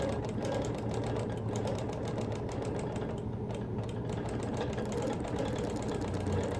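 A sewing machine freehand quilting the border print of a Quilt of Valor, running as a steady, continuous mechanical hum with a rapid stitching pulse, close and alone throughout.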